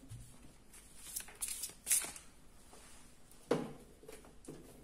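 Oracle cards shuffled by hand in a quiet room, a few short, soft riffling bursts separated by pauses.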